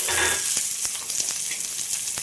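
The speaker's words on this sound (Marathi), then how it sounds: "मिरच्या पण साईडला भाजून निघत आहेत" Garlic and green chillies fry in oil on a small flat pan for mirchi thecha, giving a loud, steady close-up sizzle broken by sharp crackles and pops.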